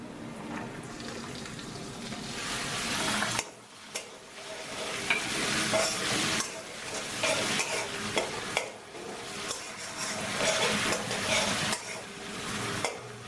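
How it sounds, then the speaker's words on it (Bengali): Chopped ginger and garlic frying and being stirred in hot oil for a Punjabi-style chicken, a steady close sizzle broken by scraping stirs and a brief pause, with no talking. "আদা আর রসুন কুচিটা তেলে সামান্য কিছুক্ষণ ভেজে নিয়ে"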